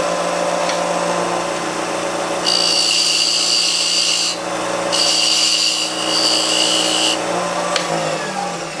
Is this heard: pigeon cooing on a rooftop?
no